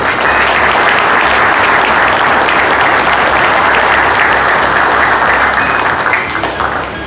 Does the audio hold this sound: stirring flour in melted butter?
no